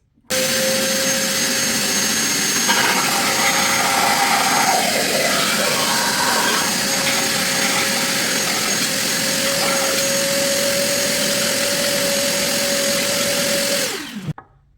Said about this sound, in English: I'm going to vacuum it using a wet vacuum dryer